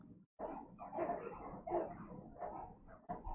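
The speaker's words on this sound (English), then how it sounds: "It's my dog, man. He comes at the worst times." A dog barks repeatedly indoors in a run of loud, close yips and barks with short gaps, no talking.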